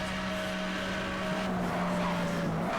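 A race car engages nitrous boost in Need for Speed Hot Pursuit Remastered, a steady droning engine whine with a sustained tonal pitch under a rushing wind-like hiss, loud and continuous throughout.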